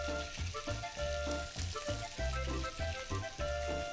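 Chicken pieces, skin removed, brown in a frying pan with a steady oily sizzle, overlaid by soft rhythmic thumps from music playing in the background.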